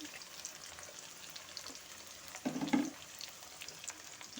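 Cabbage fried rice with peas and chopped chillies fries in a pan. The sizzle is soft and low, and a brief louder scrape or stir comes midway.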